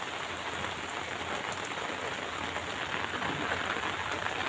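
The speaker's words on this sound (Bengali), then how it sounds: "আজকে দেখো কি মশালধারা বৃষ্টি হচ্ছে" Torrential rain pours down steadily, a dense, constant hiss of drops hitting surfaces that holds at an even level throughout, with no talking.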